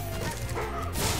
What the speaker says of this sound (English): Ooh, doggy!